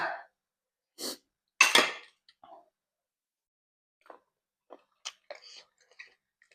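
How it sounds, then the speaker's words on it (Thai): Large apple snails are chewed close up, a handful of crunchy bites followed by sparse, softer wet clicks and smacks separated by silence. "มาเคี้ยวให้ละเอียดนะคะ"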